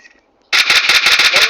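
Rapid automatic gunfire from the mobile shooter Free Fire bursts in after a near-silent moment, a loud, dense run of evenly spaced shots close up.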